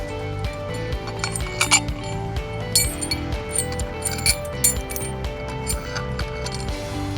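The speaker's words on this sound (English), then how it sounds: "First, we're gonna have to take out the saddle bolts." Metal saddle bolts being worked loose on a Reed Bear Hug PE squeeze tool over a buried pipe, giving close, irregular clinks and ratcheting clicks with a few sharper metallic taps against a steady background hum.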